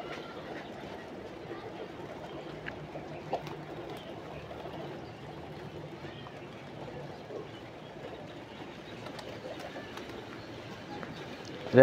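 Soft cooing of Giribaz pigeons blends into a low, steady background hum, with occasional faint voices and small knocks nearby.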